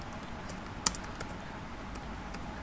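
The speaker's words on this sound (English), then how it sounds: "Okay, so simply I'm just typing this Garfa police station." Keys tapped on a computer keyboard while a search is entered into mapping software: a few sparse, faint clicks with one sharper keystroke, over a quiet room hum.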